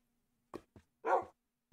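A dog in the survival game Overcast gives a few short yips and barks, then a longer whimpering bark, close and clear against near silence.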